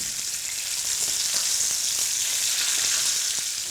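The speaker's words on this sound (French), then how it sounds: "Je vais l'arroser régulièrement avec l'huile d'olive chaude." Tuna fillet frying in hot olive oil while being basted, with a dense, continuous close sizzle and faint spatter throughout and no voices.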